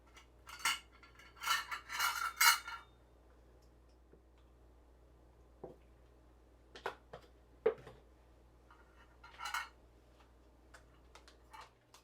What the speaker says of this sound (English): we might as well carve up the other garlics to get our tablespoon